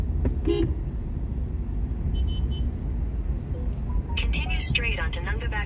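Car horns honk in Chennai traffic: a brief toot early on, then several sharp honks in a cluster near the end, over a continuous roadway rumble.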